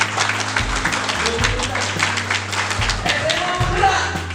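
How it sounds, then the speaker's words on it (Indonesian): High school students at an anti-bullying declaration event clap their hands together in short rhythmic bursts, loud and close, mixed with chanting voices and a background beat. "Tepuk tangan untuk kita"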